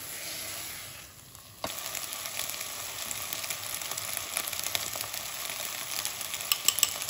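Soaked rice is stirred in a hot pan, starting with a quiet hiss before a sudden louder sizzle takes over, with scattered scraping and clicking from the stirring, close and without talk.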